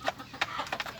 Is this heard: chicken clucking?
yes